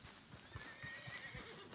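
A horse whinnies in a video game over rhythmic hoof clip-clops, faint and distant-sounding, with a thin high neigh drawn out across the short moment.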